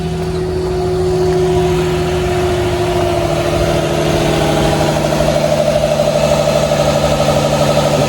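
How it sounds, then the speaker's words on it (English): A 2011 Infiniti G25 idles steadily after a new battery install, likely on old gas, giving a close, even, continuous hum that settles down without talk. "Let it run and kind of idle down."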